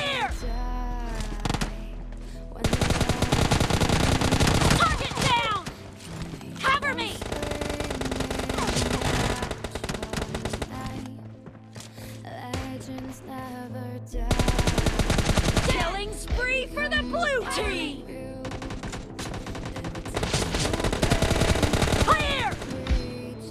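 Automatic gunfire in the mobile battle royale game PUBG Mobile Lite, with long, loud rapid bursts of shooting repeating at close range, broken by short lulls, under occasional voice chat.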